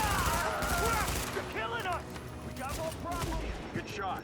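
Rapid bursts of video game gunfire crackle close and loud, shots overlapping in quick volleys beneath shouting voices and chatter.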